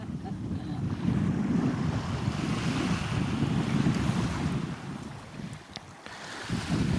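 Waves wash steadily onto a beach at night, making a continuous roar of surf. Wind buffets the microphone throughout, and the sound dips briefly near the end before swelling again. Nobody speaks.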